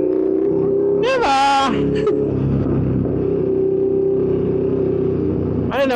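Motorcycle exhaust rev bombing on a big bike with an aftermarket exhaust: a sharp revving burst roars up and falls away near the start, then the engine idles steadily, with a second rev beginning at the end.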